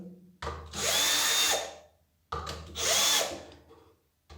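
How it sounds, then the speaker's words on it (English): A cordless screwdriver drives screws in two close, loud bursts, each spinning up with a whine, running steadily for about a second and then winding down. "now I can use the cordless screwdriver to make it faster"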